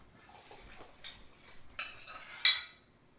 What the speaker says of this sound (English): we're gonna strain this through a strainer back into the syrup